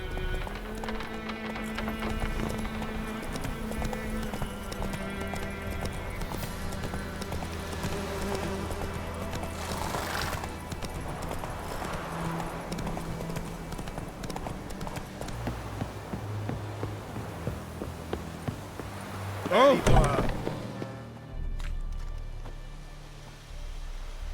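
Horse hooves clip-clop at a run in The Witcher 3, a steady rhythm under game music with a sharp burst near the end.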